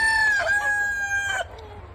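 A rooster crows loudly and close by in one long drawn-out call that cuts off abruptly, with faint clucking murmurs around it.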